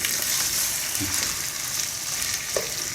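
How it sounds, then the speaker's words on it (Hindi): Chicken and turnip fry in a pan with a loud, constant close sizzle, broad and steady, with a couple of soft knocks from a utensil partway through and no talk. "इसको मैं फ्राई करता हूँ"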